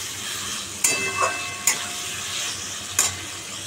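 Kabuli chickpeas tipped into well-cooked masala in hot oil, a continuous close sizzle with three sharp clattering bursts as they drop and are stirred, with no voices.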